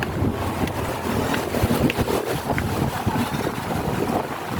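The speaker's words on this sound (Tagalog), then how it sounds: "Ang hangin pusog kayo." Strong wind buffeting the microphone in a steady, rough roar, with gusts rising and falling and no talking.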